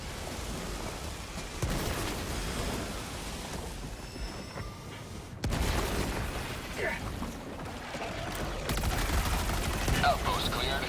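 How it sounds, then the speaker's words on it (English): Helldivers 2 combat roars continuously, with dense gunfire and dull blasts from grenade explosions layered into a thick, steady wash of battle noise that shifts in intensity across the stretch. "Throwing grenade."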